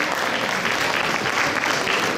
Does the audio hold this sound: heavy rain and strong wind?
no